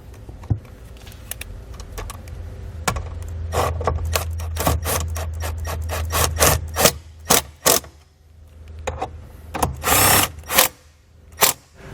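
Tightening factory bolts on a 2017 Jeep produces a close series of sharp ratcheting clicks and scraping bursts, with a low steady hum underneath and no talking.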